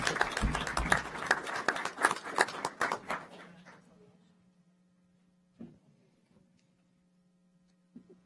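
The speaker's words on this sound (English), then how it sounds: "let's give Harrison a great big round of applause" A seated audience at a Sherwood city council meeting breaks into a dense burst of clapping for an Eagle Scout. It lasts about three seconds, then fades to a low room hum with a couple of faint knocks.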